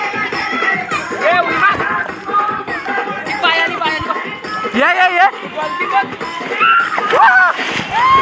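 A family jumps into a swimming pool at a farmhouse, with splashes and sloshing water under lively, overlapping shouting and chatter from nearby people.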